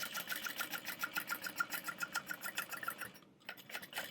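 A sewing machine stitching a seam line on a bag, a steady fast rhythmic clatter that pauses briefly near the end before resuming, close and fairly quiet with no talk.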